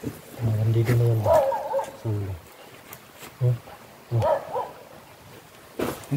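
A dog barks a few times in an outdoor camp setting, the short yaps mixed in with people talking nearby.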